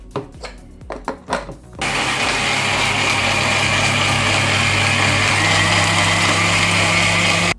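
A kitchen mixer grinder jar blends kara chutney ingredients with salt: a few short knocks and rattles, then the motor kicks in with a loud, steady high whine and grinding that runs continuously to the end.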